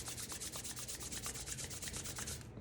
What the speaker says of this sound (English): Rub the hands together, get some friction going.